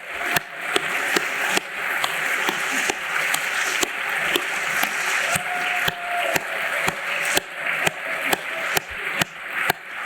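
A museum lecture audience at the V&A applauds steadily, a dense near patter of many clapping hands with sharp louder claps scattered through, lasting about ten seconds.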